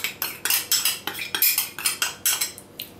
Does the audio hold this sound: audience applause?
no